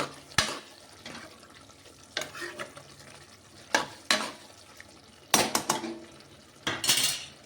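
Pumpkin curry with a little water added is mixed in a pan, with close, intermittent spoon scrapes and knocks against the metal separated by quiet pauses.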